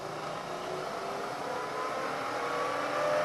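A milling machine spindle spins up to 1,000 RPM, giving a steady, fairly loud mechanical whir with a faint tone that edges upward, and no talking.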